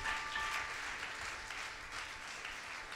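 Soft, distant applause from a church congregation during a French-language service, a thin, even patter of hands that continues without pause and without speech.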